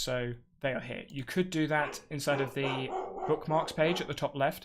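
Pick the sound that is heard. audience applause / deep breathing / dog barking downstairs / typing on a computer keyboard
dog barking downstairs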